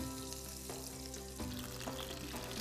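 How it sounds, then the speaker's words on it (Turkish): Butter and oil sizzle steadily in a pan while gözleme is being made in a village kitchen, a constant close frying crackle with occasional soft stirring clicks. "İkinci gözlememizin, ot gözlememizin yağsını yakıyorum."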